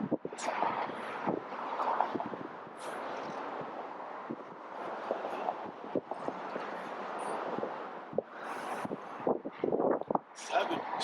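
Strong wind buffets the microphone outdoors, a continuous rushing roar with gusty surges and sharp bursts throughout, loud and close, with people talking over it.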